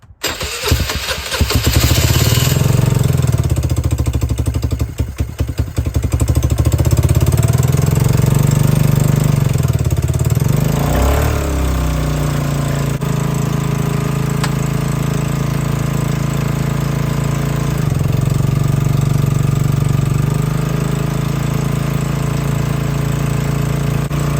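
A Vespa ET4 125 scooter engine runs loudly and steadily up close after carburettor cleaning, with a low droning idle and rough rattling at the start and occasional rises in revs as the auto choke engages.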